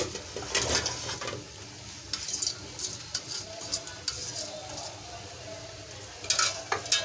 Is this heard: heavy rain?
no